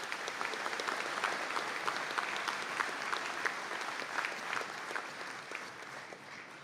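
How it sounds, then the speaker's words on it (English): Steady audience applause fills a graduation conferring ceremony in Donegal, a dense crowd clapping evenly and continuously without pause, at moderate distance. "I could ask to give them all a round of applause,"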